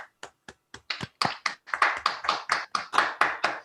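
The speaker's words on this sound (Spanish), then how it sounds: "le regalamos un aplauso a Patricia" A few people clap for speaker Patricia Hurtado after a talk on the cooperative world and solidarity economy. Isolated claps come first, then quicken into a close, brisk patter of applause.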